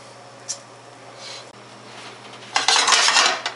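A spatula lifts English muffins out of a pan, making a few light clicks early on, then a burst of close metallic scraping and clattering against the pan near the end, with no talk.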